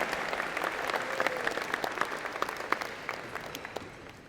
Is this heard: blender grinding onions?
no